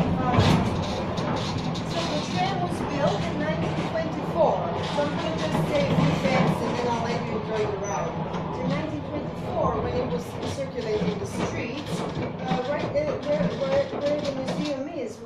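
Museum tram riding through Zagreb, wheels rumbling and rattling along the rails with clunks and squeaks under a steady low drone, while people talk quietly on board.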